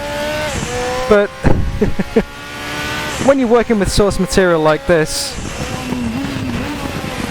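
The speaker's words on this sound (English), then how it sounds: "just listen to the engine as well" A Group 5 Zakspeed Capri race car in RaceRoom Racing at Zolder roars loudly, its engine revving up and down through sharp gear changes with popping on the overrun, while someone talks over it.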